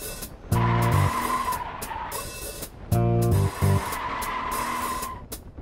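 A stock Ford F53 RV coach swerving hard at about 50 mph in an emergency handling test, with two loud bursts of tire squeal and skidding over a running engine, no talk.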